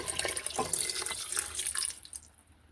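Water pours steadily into a pot of homemade beef soup, a continuous splashing stream that tapers off near the end, close and alone.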